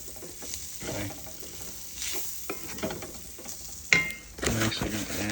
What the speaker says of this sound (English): Mix in the flour.